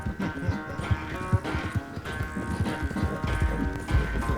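Horse hooves gallop in Red Dead Redemption 2, a rapid rhythmic clip-clop of repeated thuds, close and fairly loud, with game sounds and voices faintly beneath.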